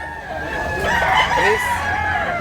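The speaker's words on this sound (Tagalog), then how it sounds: "White Kilsi. Puti nga manok." A white rooster crows once nearby, a drawn-out call over a steady background hum, with other farmyard sound around it.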